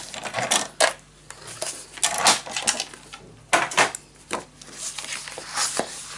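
Scissors snipping a paper booklet for a crystal-themed mini scrapbook album to make it shorter, a run of sharp close crisp cuts and rustles in an irregular rhythm, with no talking.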